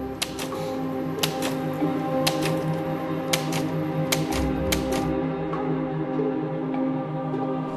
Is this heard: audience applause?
no